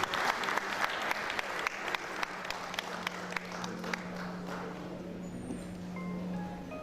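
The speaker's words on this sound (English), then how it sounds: "Can we please give our very wonderful ambassador another round of applause?" An audience at a school's 103rd anniversary celebration applauds an ambassador. The clapping is dense and sustained, then thins out and fades, and a steady tone runs underneath.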